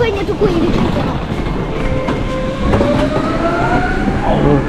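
A Paris metro train rolls into a station, its low rumble joined by a rising whine and brief squeal of wheels as it approaches, with faint voices nearby.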